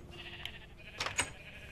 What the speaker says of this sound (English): I think we got a red sheep.